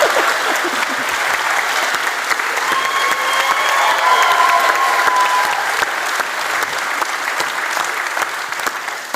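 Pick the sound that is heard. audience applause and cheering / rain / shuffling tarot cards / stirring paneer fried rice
audience applause and cheering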